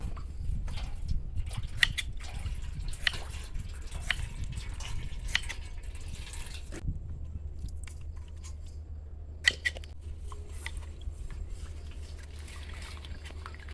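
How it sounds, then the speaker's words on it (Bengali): Salt stirred into water for brine, for making banana-stem chips: soft, close sloshing and trickling with small irregular clinks and drips, quiet, no voices. "আমি এদিকে লবণ জলটা গুলিয়ে নিই"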